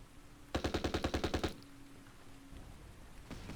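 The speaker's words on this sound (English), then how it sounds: "Because this machine gun just needs to go." Machine gun fire in the video game Battle for Iwo Jima: a loud, rapid burst of about a dozen evenly spaced shots lasting roughly a second, followed by a faint lingering tone and quiet background.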